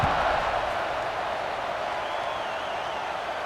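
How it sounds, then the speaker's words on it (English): Stadium crowd noise in a college football video game, NC State against Cal, a steady broad roar of a buzzing crowd after a score, with a faint commentator voice underneath. "this crowd is buzzing after that last score"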